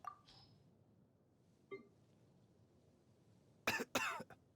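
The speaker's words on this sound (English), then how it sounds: "When you try to sprint, he just coughs." A faint beep and small chime, then a short burst of two harsh coughs close up near the end.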